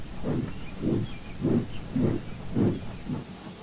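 Three steam locomotives puff into a railway siding. Steady rhythmic chuffs come roughly every half second at moderate loudness over a constant background hiss, with no voices.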